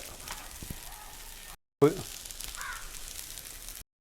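Sauce poured into the centre of a hot pan for Chinese restaurant-style chicken fried rice sizzles and hisses steadily and up close. After a brief cut, it flares with a sharp burst and then settles back into a continuous crackle.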